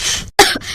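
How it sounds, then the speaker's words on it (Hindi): A woman sick in bed coughs hoarsely, two short harsh coughs close up and loud, separated by a brief pause. "वो बिस्तर से उठ नहीं पा रही थी और पूरा दिन बस खांस रही थी।"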